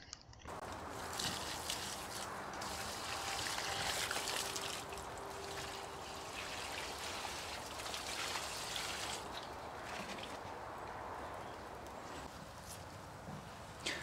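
Water poured steadily onto freshly planted Gunnera in dug-over topsoil in a Yorkshire exotic garden, a continuous outdoor trickle and splash that runs without pause, no voices.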